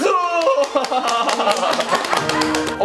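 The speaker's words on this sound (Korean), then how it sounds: "박수!" An audience claps at a quiz contest on Yi Sun-sin, giving a run of quick, sharp, fairly close claps mixed with voices and some chatter.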